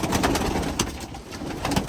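Pigeons coo steadily inside a clean home loft, soft low throaty calls overlapping in a continuous close chorus with occasional wing flutters.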